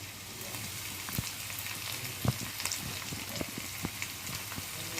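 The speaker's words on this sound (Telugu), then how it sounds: "వేసి ఫ్రై చేసుకోవాలి. ఇదంతా ఫ్రై అవుతుంది కదా" Pounded ginger garlic paste fries in a pan for an Andhra fish pulusu, giving a soft continuous sizzle with scattered small pops and crackles, close but quiet.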